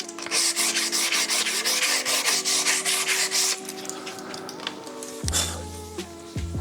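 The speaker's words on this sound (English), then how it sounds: "just sanding with the grain" Steady, continuous rasping of sandpaper rubbed back and forth with the grain over teak wood, close and fairly loud, with a brief clunk and lower hum near the end.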